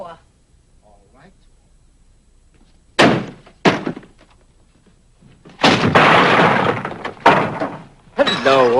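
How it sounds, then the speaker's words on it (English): A door slams shut in a classic film scene, sharp heavy bangs and thuds alongside loud raised voices and other impacts. "Don't you dare slam that door!"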